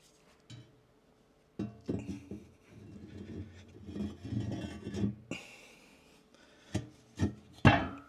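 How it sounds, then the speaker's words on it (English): A metal grate is set back into a fireplace after a deep clean, with scraping, rasping and rubbing against the firebox, then a few sharp clanks near the end, close and moderately loud with pauses between. "Let's set this grate back down in here."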